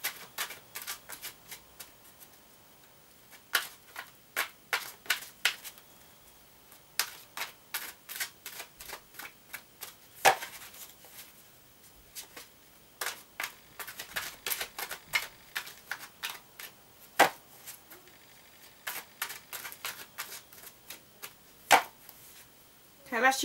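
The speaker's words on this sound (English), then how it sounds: "I'm going to shuffle these cards" Romance Angels oracle cards being shuffled by hand, a long run of quick crisp riffling bursts and soft flicks repeating irregularly, close and fairly quiet, with no talking over it.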